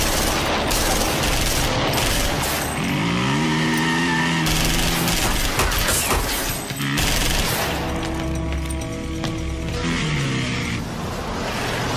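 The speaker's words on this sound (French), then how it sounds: "On dirait une fusillade." Sustained gunfire from an action war film crackles continuously, with rapid bursts and heavy rumbling booms layered over an engine-like drone throughout.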